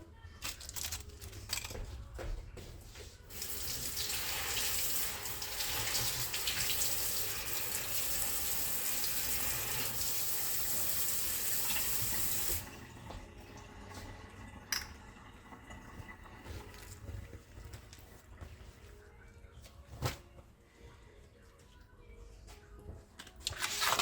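Vegetables are rinsed under a running kitchen tap, with steady splashing water for about ten seconds, then quieter handling sounds and dripping, close by with no talk.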